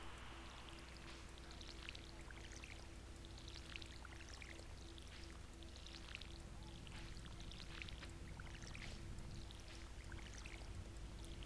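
A watering can in the farming game Stardew Valley pours over crops in a series of soft, evenly repeated splashing bursts, faint over a steady low hum, with no talk.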